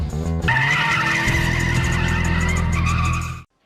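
A Toyota AE86 racing in an anime gives a loud, steady tire squeal over engine drone while skidding through a corner. It runs for about three seconds, then cuts off abruptly.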